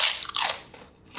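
A giant white Dorito is bitten with a loud, close crunch, followed by a brief crackle of chewing that fades out.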